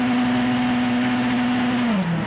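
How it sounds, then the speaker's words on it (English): Sebastien Loeb's Citroën rally car runs through a stage of the 2002 Rally Catalunya, its engine holding a steady drone before the pitch drops near the end; no one speaks. "In another Citroën, Sebastian Loeb gets set to blast through the stage."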